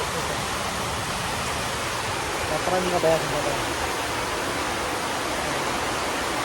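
Steady rain falls outside with a dense, even hiss that never lets up, and a faint voice rises briefly partway through.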